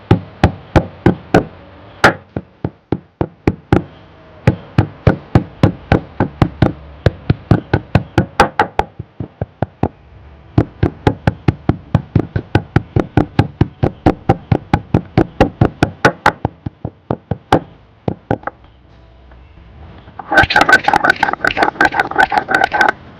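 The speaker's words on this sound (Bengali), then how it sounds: "থালকুর পাতাগুলো এখন আমি ছিঁড়ে ভালো করে বেটে নিচ্ছি" Thankuni (pennywort) leaves are crushed on a traditional grinding stone, producing a steady run of sharp, close knocking and scraping strokes in a quick repeated rhythm, with a brief pause midway and a rougher scraping burst near the end.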